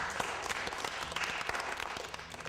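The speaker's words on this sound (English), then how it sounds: "Give Curtis a round of applause" Steady audience applause at a school evening event, a dense, even wash of clapping from a crowd that holds for the whole stretch at moderate volume.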